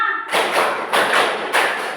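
Indonesian primary class clapping in unison on a counted routine, three sharp group claps in quick succession, loud and close in a room.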